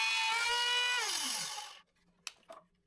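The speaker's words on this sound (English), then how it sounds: "place the jig in the holes I've drilled and rotate the router" A router cutting a wooden shelf guided by a jig, a loud high whine that winds down and fades out after a couple of seconds, followed by two short knocks, with no voices.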